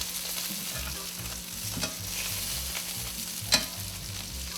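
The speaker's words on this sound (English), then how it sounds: "Oh, such a nice crispy sound." Romanian sausages fry in a pan with a constant crisp sizzle and crackle, plus occasional stirring knocks and a sharp clink near the end, close and steady with no talking.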